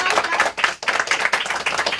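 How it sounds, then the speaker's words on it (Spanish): Schoolchildren at a radio station clap for their principal: a dense burst of fast, close applause from a group, briefly dipping twice before picking back up, with no talking over it. "Un aplauso para la directora"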